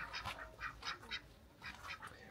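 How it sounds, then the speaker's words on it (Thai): Ducks quacking at a rural home in Xieng Khouang, Laos, several short nasal quacks coming in quick clusters with brief pauses between, fairly close and clear. "ตัวเป็ดก็มี"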